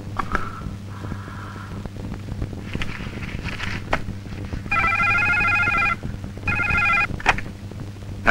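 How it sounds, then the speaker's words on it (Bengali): A telephone rings in two trilling bursts in a scene from a Bangla feature film, heard over a steady low background hum with no talk. "সুবর্ণা এলে একটা ফলস ফোন করবি।"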